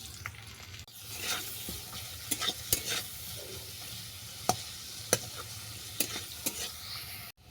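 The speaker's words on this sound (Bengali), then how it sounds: "এরপর কোনোতে দেবো সর্ষের তেল তেল গরম হয়ে গেছে এবার আমি পেঁয়াজ কুচি দিয়ে দেবো" Chopped onion frying in hot mustard oil in a wok, a soft continuous sizzle punctuated by occasional crisp clicks and scrapes of a spatula.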